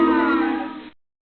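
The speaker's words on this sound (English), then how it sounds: "Boos for a snake" A short booing sound effect plays when a piece lands on a snake in a snakes-and-ladders game. It is a single voiced boo, steady for just under a second, then cut off abruptly into silence.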